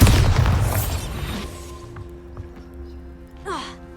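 A Bombarda explosion spell from a video game goes off in a loud booming burst that fades over about a second and a half, followed by a brief rising magical shimmer.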